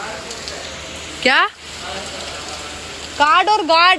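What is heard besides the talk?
monsoon rain falling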